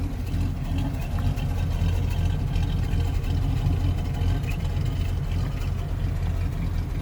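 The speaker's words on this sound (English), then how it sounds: "Just a good old factory sound of a V8 engine" Deep, steady rumble of a 1966 Chevrolet C10 pickup's V8 engine running at idle, low and continuous, close by with a faint murmur of a voice.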